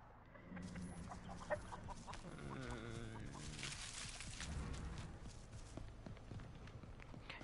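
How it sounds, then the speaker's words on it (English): A chicken in the video game Texas Chainsaw Massacre clucks in a quick, rhythmic run of calls over a steady background of game ambience, with faint footsteps, fairly quiet overall. "I triggered the chicken just now."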